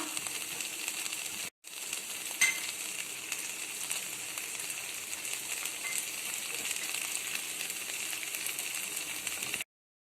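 Ivy gourd poriyal stir-frying in a pan gives a steady, fairly quiet broadband sizzle, broken once by a brief gap and a small clink of a stirring utensil, then continuing evenly until it stops.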